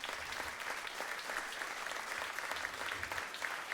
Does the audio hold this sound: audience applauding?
yes